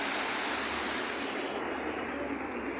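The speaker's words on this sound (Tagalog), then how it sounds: "may alon, umaalon" Broad rushing wash of moving floodwater with waves churning along a flooded street, a steady close roar with no talk.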